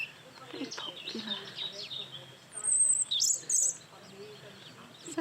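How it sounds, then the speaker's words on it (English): Many birds chirp and tweet from inside a leafy bush along a sunny village path in the Scottish Highlands, with scattered calls and a brighter burst of high twittering partway through, set against soft outdoor background noise. "there are lots of birds in this bush"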